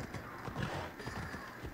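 A horse's hooves clopping at speed in the video game Assassin's Creed Odyssey, a steady rhythmic run under game ambience, with a brief whinny.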